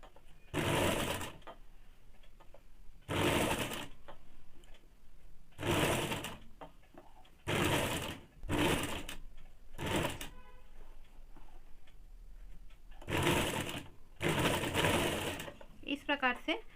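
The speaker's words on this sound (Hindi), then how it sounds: "इस प्रकार से थोड़ा थोड़ा करके फोल्ड करके आप लोग को गोलाई से सिलाई कर देना है।" A sewing machine stitches folded woolen fabric on a baby frock in repeated bursts of a second or so, with short pauses between runs, close and fairly loud.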